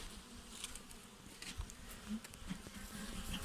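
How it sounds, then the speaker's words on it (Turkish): Honeybees buzz in a dense, steady hum at a hive on a warm day, with the swarm's drone close and continuous the whole time, sharper wingbeats flicking past now and then. "Gerçekten biz de bu vızıltıları özledik"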